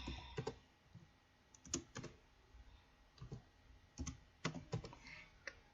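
Bursts of typing on a computer keyboard while entering SPSS data. Quiet, close key clicks come in short irregular clusters with small pauses between them.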